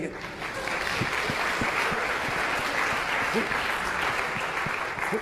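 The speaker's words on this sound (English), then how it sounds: "Let's give them a round of applause" A lecture-hall audience applauds a student pair from the class, steady dense clapping filling the room for several seconds at moderate level, with a few sharper individual claps standing out.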